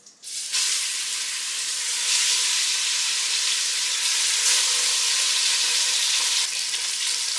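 Short ribs browning in a hot pan for a ragu, a loud, continuous close sizzle and hiss of frying fat that holds steady throughout, no talking.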